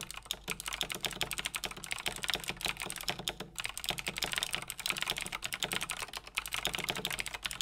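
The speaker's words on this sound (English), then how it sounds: "you do hear that I'm typing things" Steady, rapid typing on a computer keyboard, a dense stream of crisp key clicks close by with no talking.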